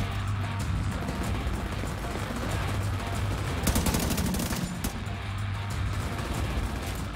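An automated turret in The Division 2 fires continuous bursts of rapid gunfire through a dense battle mix, with the shooting loud and steady all the way through and a sharper cluster of shots near the middle.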